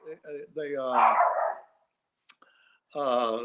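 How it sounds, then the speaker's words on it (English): Dogs bark and yelp close by in a few bursts, with a quiet gap, a brief click and a faint tone before another long bark. "sorry about the dogs"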